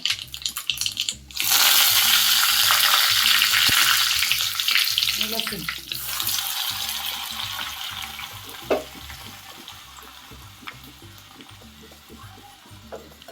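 Hot oil bursts into a loud sizzle and crackle as curry leaves are added to a tempering, then settles into a steady frying hiss that slowly fades, with a few stirring clinks.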